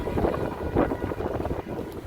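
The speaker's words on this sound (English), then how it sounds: "It's windy, so hopefully you can hear it." Wind gusting through a snowstorm on Michigan Avenue in downtown Chicago, a steady broadband rush buffeting the microphone with loud, rumbling surges and no other sounds.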